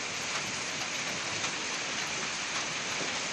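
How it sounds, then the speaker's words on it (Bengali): Heavy thunderstorm rain pours down as a dense, steady hiss of drops striking surfaces, even and unbroken throughout, with no thunder standing out and no voices. "প্রবল ঝড় বৃষ্টি দীঘা, এগরা, পটাশপুরেও।"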